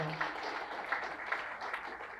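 Audience clapping at a sports and recreation hall of fame induction ceremony, soft steady applause from a room, fairly faint and continuous with small bursts.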